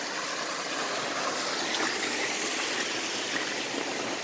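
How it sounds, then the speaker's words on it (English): A small cascade in a creek in a forest ravine in Shawnee National Forest tumbles steadily, giving a continuous broadband rushing and splashing close by with no voices. "A little cascade there."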